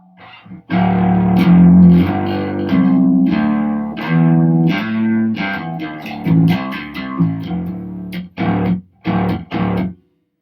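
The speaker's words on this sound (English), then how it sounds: "I'm going to pull the drive back, the saturation up, bring up the volume a little bit." A bass through a saturation drive pedal plays a run of distorted, gritty notes, sustained at first and then short, choppy stabs with brief gaps; no talking.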